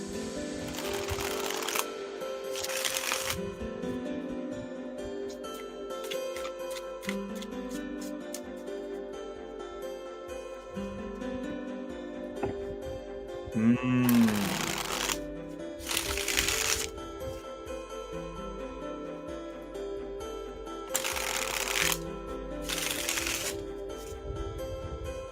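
Tarot cards are shuffled over and over during a live reading, with repeated riffling and crisp card snaps in bursts against a droning musical background.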